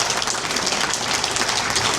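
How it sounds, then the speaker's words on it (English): A gala awards ceremony audience claps in a dense, hissing patter. The applause is steady and loud throughout, with no talk over it. "I think they should all get a round of applause"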